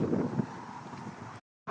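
Outdoor wind on an overcast day in Dublin, Ireland, buffeting the microphone in a continuous rough rumble that breaks off abruptly for a moment, then returns.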